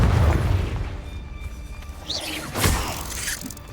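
In the Hogwarts Legacy video game, a Confringo spell goes off as a loud, close booming blast with a shattering crash, then a lighter burst of debris and magical whooshing as it fades.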